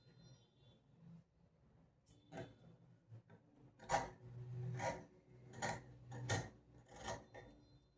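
Scissors cut blouse fabric during stitching, a series of faint crisp snips and rustles with a few sharper cuts toward the end, close and quiet with no talking.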